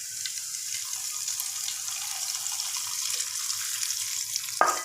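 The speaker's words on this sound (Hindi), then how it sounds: "अभी ये तड़का जाएगा दाल के अंदर।" Hot tempering poured from a pan into cooked chana dal, giving a steady, close sizzling hiss throughout with a sharp clink of the pan near the end, no talking.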